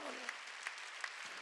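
A church congregation at a Wednesday worship service claps in a brief, soft burst of applause, a dense patter of hands with a few sharper claps standing out.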